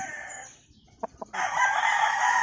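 Boston Roundhead bullstag rooster crowing loudly nearby, a drawn-out crow that breaks off, followed by two short clucks and then another strong crow.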